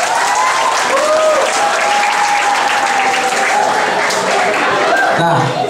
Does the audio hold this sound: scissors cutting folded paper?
no